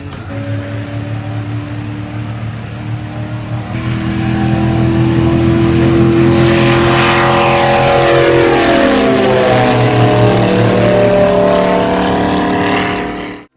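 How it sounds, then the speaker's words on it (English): A Lexus V8 engine revs and accelerates, its rising harmonic whine building from a steady drone to a loud, sustained roar that fades off at the end. "Look at that V8 Lexus."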